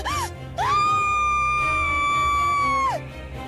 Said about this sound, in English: Her scream splits the night.